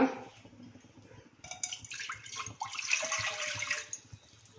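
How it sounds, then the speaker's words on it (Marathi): Water is poured from a glass into a hot pan, a splashing, gurgling pour that swells over the second half and then tapers, close by and without talk. "यामध्ये पाणी घालूया"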